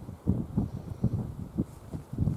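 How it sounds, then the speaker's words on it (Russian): Cold wind blowing beside a river, buffeting the microphone in low, rumbling gusts that swell and fade every half second or so, with no voices. "очень прохладный ветер"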